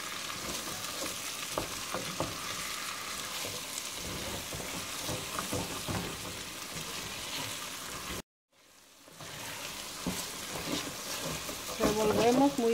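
Chopped onion sizzles steadily in a frying pan while being stirred, with scraping and crackling throughout. A short break in the sound comes midway before the frying resumes.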